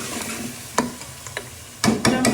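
Boiled mutton frying in spices for pulao, with a soft sizzle under sharp scraping strokes of a spoon in the pot, several close clatters toward the end.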